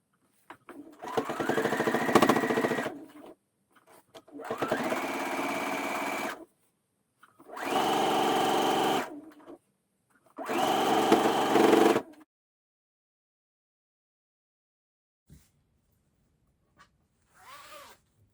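Sewing machine stitching ribbon onto a girl's dress made from Simplicity 1456, running in four distinct bursts of steady mechanical whirring with short pauses between, then near silence apart from a couple of faint bumps.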